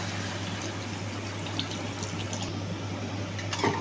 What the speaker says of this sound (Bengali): আমি এবারে জল দিয়ে এখানে দেখো পাঁচশো আমি জল নিয়ে নিয়েছি পাঁচশো জলটা সবটাই দিয়ে দেবো